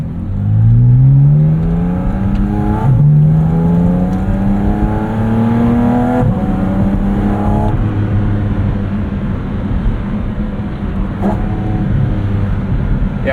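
A 2023 Porsche 718 Cayman GT4 RS accelerating hard from inside the cabin, the engine note rising in several sweeps, each cut short by a quick, crisp PDK gear change, then settling into a steady drone.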